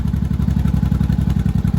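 An old barn-find motorcycle engine idles with the choke almost off, a close, even, rapid chugging pulse that stays steady throughout.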